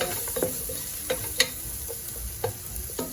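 A spoon stirs chicken soup in a pot, giving a few distinct clinks and scrapes against the pot over a soft steady sizzle and simmer, close and fairly quiet, with no talking.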